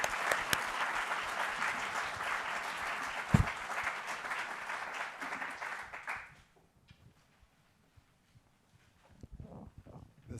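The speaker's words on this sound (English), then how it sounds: "can I ask for one last round, a huge round of applause for our amazing panel" An audience at an education summit on chronic absenteeism gives a closing round of applause for a panel, with dense clapping for about six seconds that then stops abruptly, leaving a quiet room.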